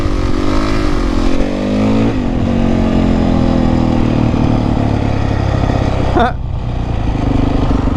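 A motorcycle engine during beginner wheelie practice while the rider holds the foot brake: a loud, close, steady drone with a rise and fall in revs, then a sharp change in pitch near the end.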